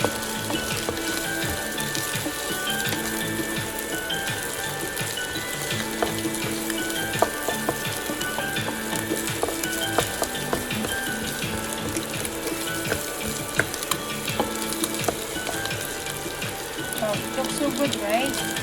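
Beef sizzling and frying in a pan for tacos, a dense steady crackle with scraping stirring noises and occasional clinks throughout, close and continuous.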